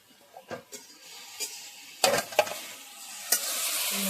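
Ground ginger, garlic, mustard, cumin and green chili paste being sautéed in a pan for a greens curry, with a soft sizzle under several sharp spoon scrapes and knocks, close and moderately loud.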